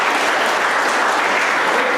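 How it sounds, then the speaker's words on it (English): An audience at a university lecture in Nashik, India applauds, a dense, steady wash of many hands clapping together at close range, sustained evenly for about two seconds with no speech. "Give applause for Goran."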